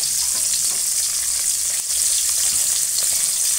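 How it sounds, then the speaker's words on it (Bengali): Salted beans fry in hot oil with a loud, steady, close sizzle, turned over with faint stirring scrapes, and no one speaking. "এবার আমি তেলের মধ্যে দিয়ে উল্টো পাল্টে ভালো করে ভেজে নেব"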